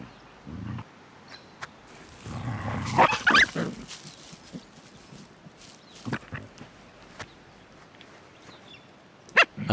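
Dingo pups in the Australian wild give intermittent growls, snarls and yelps in short, close bursts separated by quieter gaps, with no human voices.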